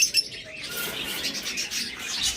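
Budgerigars at a bird seller's make high, busy chirps and chattering tweets in quick overlapping bursts, close and fairly clear, with no one talking.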